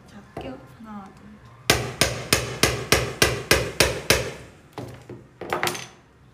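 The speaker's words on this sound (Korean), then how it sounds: "또 망치질 해보도록 할게요." Hammer blows strike a Converse sneaker: about ten loud, evenly spaced knocks in a steady run, then a few more scattered hits, with faint talk before the series begins.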